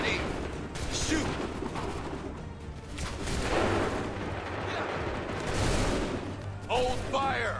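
Musket volleys in Assassin's Creed 3, booming rounds of massed fire that come in waves with loud bursts and rumbling tails, while shouted orders and speech sound between them.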